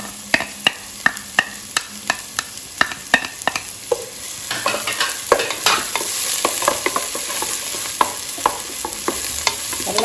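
Onion and cashews fry in a pan with a steady sizzle while a spoon scrapes and taps repeatedly against the metal, the stirring strokes coming in a quick irregular rhythm.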